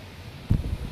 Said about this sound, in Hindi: कितनी ही तेज़ हवा चली है, मौसम बहुत ही ज़्यादा ख़राब है